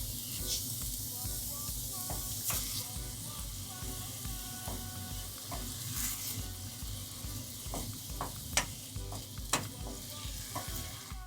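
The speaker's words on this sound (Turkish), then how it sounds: "Yağımız kızdıktan sonra parçaladığımız soğanları ilave ediyoruz." Chopped onions sizzle in hot oil with a continuous, close hiss. Occasional sharp pops and stirring scrapes stand out near the end, with no talking.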